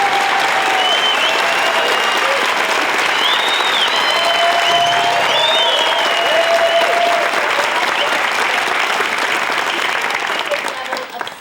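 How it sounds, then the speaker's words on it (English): Studio audience applause on the set of a talk show, loud sustained clapping from a large crowd with whoops and cheers rising over it, tapering slightly at the very end. "Nice round of applause,"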